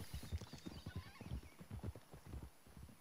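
Rapid clip-clop of horse hooves from Red Dead Redemption 2, a steady galloping rhythm of close, loud thuds with an occasional whinny, no talking over it.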